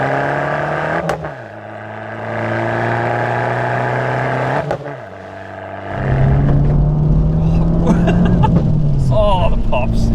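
An Abarth 595 hot Fiat 500 accelerating on a wet road, its engine note climbing steadily, dropping at each gear change, then pulling hard again, loud and close from inside the car, with crackling exhaust pops near the end.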